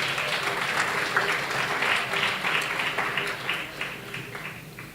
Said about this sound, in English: A round of applause as we welcome her.